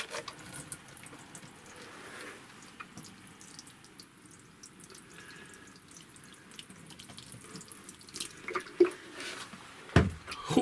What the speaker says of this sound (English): I'm just going to give them a quick water.